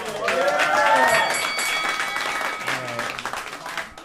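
A rap battle crowd breaks into loud applause and cheering that swells quickly and then tapers off over a few seconds.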